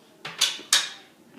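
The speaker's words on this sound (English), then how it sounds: "my oil is nice and hot, so I'm going to toss my onions" Diced yellow onion tossed into hot oil in a pan, giving two quick, close sizzling bursts that hiss and fade.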